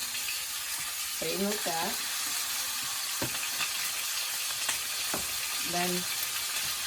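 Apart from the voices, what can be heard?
steak searing in hot oil in a pan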